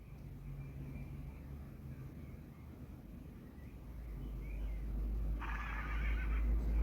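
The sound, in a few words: horse neighing in the video game Star Stable Online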